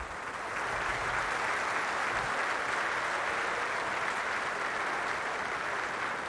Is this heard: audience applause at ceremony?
yes